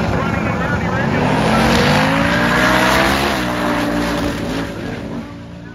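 Drag racing cars, including an LS-swapped Nova and a Chevy, roar loudly at Byron Dragway, engines rising sharply in pitch as they accelerate, then fading away, with an announcer talking over them.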